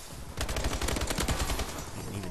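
Fast, loud automatic gunfire in Call of Duty: Advanced Warfare multiplayer, a dense unbroken burst of shots lasting nearly two seconds.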